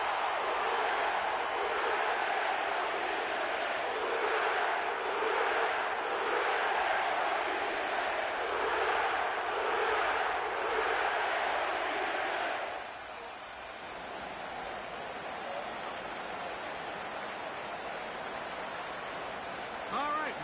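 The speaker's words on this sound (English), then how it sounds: "The crowd is definitely ready." Stadium crowd noise in an EA Sports NFL football game set in New Orleans' Caesars Superdome: a loud, steady roar with rhythmic surges of chanting and cheering, then abruptly dropping to a softer ambient hum.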